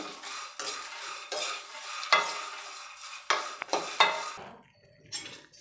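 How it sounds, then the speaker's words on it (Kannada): A spatula stirs coconut and curry leaves dry roasting in a pan, giving repeated scraping strokes in bursts with brief pauses and a few sharp metallic taps. "ಸ್ವಲ್ಪ ಕರ್ಬೇ ಸೊಪ್ಪು ಹಾಕ್ತಾಯಿದ್ದೀನಿ ಇದನ್ನೆಲ್ಲ ಡ್ರೈ ರೋಸ್ಟ್ ಮಾಡ್ಕೊತಾ ಇದ್ದೀನಿ"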